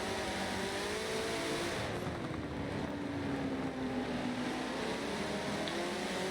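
BMW race car in an endurance racing video game at Silverstone, a loud sustained engine whine with pitch gliding down and back up through gear changes, heard alone without talking.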